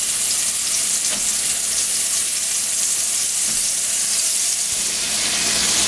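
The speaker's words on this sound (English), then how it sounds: "we're gonna put these meatballs in here and get a nice sear going" Meatballs searing in hot oil in a pan give off a loud, dense, continuous sizzle with fine crackling that holds steady throughout, with no voices.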